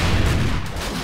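A thick, loud explosion in the zombie survival game 7 Days To Die rumbles continuously for about a second, with no talking.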